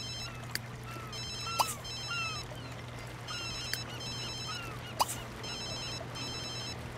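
A phone in The Sims 3 rings in short repeated electronic trilling bursts, regular and fairly loud over a steady background hum, with a few sharp clicks between the rings and no talk.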